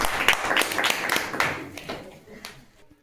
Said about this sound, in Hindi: एक बार ताली हो जाए जोर से।